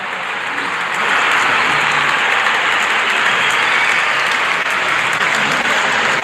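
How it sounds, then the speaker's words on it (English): A large cricket crowd at an England versus South Africa T20 match applauds in a continuous roar of clapping that swells after a moment and holds steady, heard from a distance. "Wonderful 50 and the crowd applauds."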